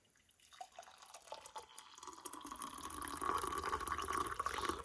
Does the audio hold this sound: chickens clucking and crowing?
no